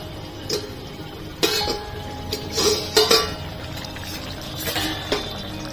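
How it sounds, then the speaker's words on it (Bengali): A metal pot lid is lifted off a pan of cooking Bombay duck (lote fish), giving several sharp clinks and light scrapes over a faint kitchen background. "পাঁচ মিনিট হয়ে গেছে, ঢাকনাটা খুলে নেব।"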